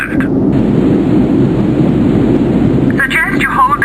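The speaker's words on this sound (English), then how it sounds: "The thunderstorm is rapidly approaching the far end of the runway" Thunder from an approaching thunderstorm near the far end of an airport runway, a loud continuous low rumble sustained throughout, with a brief higher-pitched tonal sound near the end.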